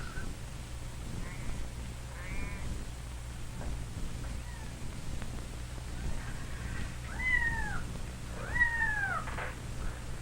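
A kitten mews repeatedly in short, rising-falling cries, soft at first and louder toward the end, over a low steady hum of background noise.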